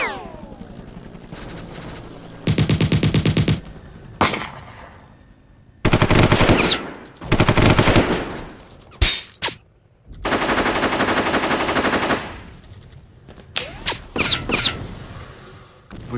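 Rapid machine-gun bursts and single shots ring out as sound effects in a toy army men versus Lego battle, loud and close, repeating in several long volleys separated by short gaps.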